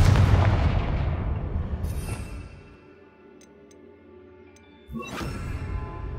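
A Confringo spell blast in Hogwarts Legacy: a loud, booming explosion with a long rumbling decay, a quieter stretch with faint game ticks, then a second sharp blast near the end.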